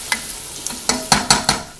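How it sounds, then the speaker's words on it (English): Chopped onion fries in a hot pan for a Korean black bean sauce, with a loud steady sizzle broken by several quick scraping stirs close to the microphone. "Now, we're frying the onion, and it's only been a few minutes."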